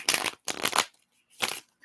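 Playing cards are shuffled in three quick, crisp riffling bursts separated by short pauses during a relaxed live holiday game session.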